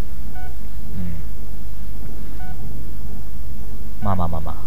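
A phone is dialed in the Blair Witch video game: short tone beeps at intervals over a constant hum, ending in a quick cluster of louder tones.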